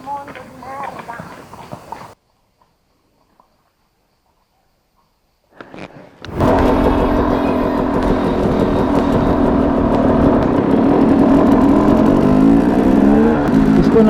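After a quiet stretch, a 300 two-stroke enduro motorcycle engine starts and settles into a loud, close, steady idle as it warms up, with a voice speaking briefly at the beginning.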